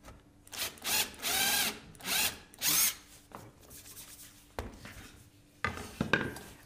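A power drill bores into wood during an Adirondack table build, with several loud whirring bursts close by early on, then quieter scraping and rubbing of tool work on the boards.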